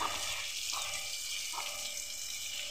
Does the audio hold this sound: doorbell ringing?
no